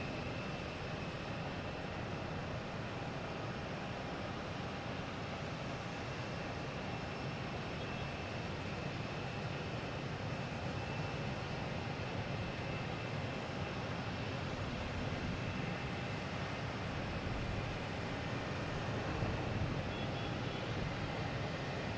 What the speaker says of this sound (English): Next to arrive is Delta coming from Philadelphia, an E175